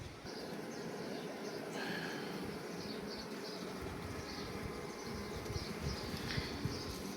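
Honeybees from a drone-laying colony swarm off a brood frame, producing a dense, steady buzzing hum that stays close and fairly loud throughout, with no voices.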